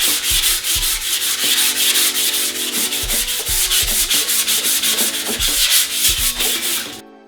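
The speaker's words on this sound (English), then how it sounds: "To sand the tops of this and on the side, I'm going to be using this 400 grit sandpaper." Sheets of 400 grit sandpaper rub back and forth over a wooden top coated with polyacrylic, giving a steady, close scratching with regular rhythmic strokes that stops abruptly at the end.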